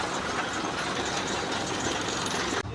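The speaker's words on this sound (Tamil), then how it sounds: "ஸ்டார்ட் ஆகிடுச்சு வண்டி" Lorry engine running just after being started, a loud, steady, close diesel idle with a clattering rhythm that cuts off sharply at the end.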